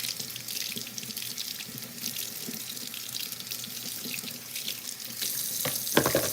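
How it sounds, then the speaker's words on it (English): Tap water runs and splashes steadily into a kitchen sink while dirt is washed off produce for a copycat Zuppa Toscana soup, a continuous close hiss with a brief louder splash near the end. "Splashing water all over my shirt, but it's all good."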